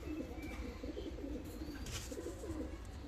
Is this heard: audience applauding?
no